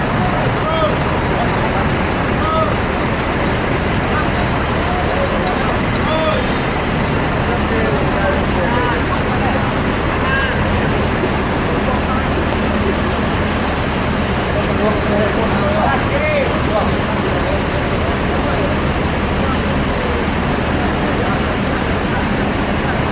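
A bus rumbles at the Pondok Pinang bus terminal amid dense, steady traffic and crowd noise, a loud unbroken roar lasting the whole stretch, with people talking throughout.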